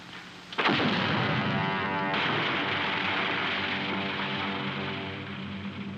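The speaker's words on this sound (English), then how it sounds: "We blasted this mountain inside out" A loud cartoon blast shakes a mountain in a 1958 animated Pied Piper of Hamelin short: a sharp booming explosion followed by a long, sustained rumbling roar that slowly fades.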